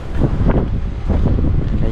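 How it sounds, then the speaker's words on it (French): Wind buffets a GoPro microphone on a moving Yamaha XT125X motorcycle, a loud, gusty low roar with pulsing surges throughout. "Là, il y a du vent, pas sûr que ça tienne très bien"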